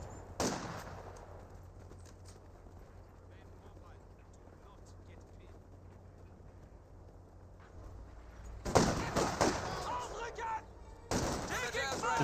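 A captured Vickers machine gun firing in the WWII strategy game Company of Heroes 2. Commentary and quiet battle ambience run for a long stretch before loud, rapid bursts of machine-gun fire break in near the end.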